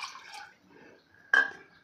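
Milk is poured into a heavy pan for modak dough, a short liquid splash followed by a sharper, brighter pour burst near the end, close and clear.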